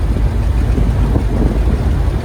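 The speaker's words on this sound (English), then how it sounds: "Engine's running good." A 1931 Ford Model A pickup's engine runs steadily while driving, a loud, continuous low rumble close to the microphone with wind buffeting and no voices.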